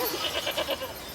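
A herd of goats bleats in short, overlapping calls as an audiobook sound effect, moderately close, with no voices.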